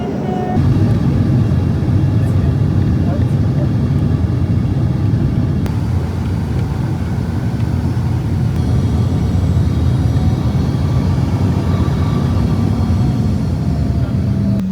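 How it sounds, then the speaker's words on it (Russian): Inside the cabin of a small jet airplane coming in to land, a loud steady engine roar and rushing airflow drone without break, with low rumbling throughout and no clear talking. "Не успели мы доесть, как уже сказали, что мы приземляемся."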